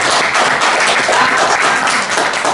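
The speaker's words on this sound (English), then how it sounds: "round of applause there," Audience applause fills a live comedy show at the Glasgow International Comedy Festival, a dense, steady wash of many hands clapping at close range with a faint cheer mixed in, sustained evenly throughout.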